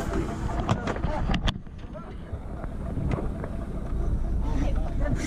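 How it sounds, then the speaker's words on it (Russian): Small boat motoring across the Red Sea toward an island off Egypt, with steady engine rumble, wind buffeting and water rush throughout, and a brief dip in the noise midway. "Едем на таком боте наш Инзип"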